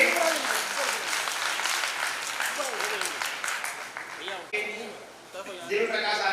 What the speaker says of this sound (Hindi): आप जोरदार तालियां बजाइए इनके लिए